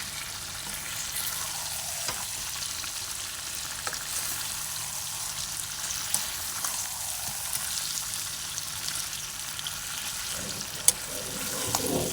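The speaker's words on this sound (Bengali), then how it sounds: "এবার আমি একটু আলুগুলি দিয়ে দেবো এই দেখো ভেজে রাখা আলু দিয়ে দিলাম" Potatoes and chicken fry in oil in a pan, giving a soft, steady sizzle with occasional stirring scrapes and clinks close by.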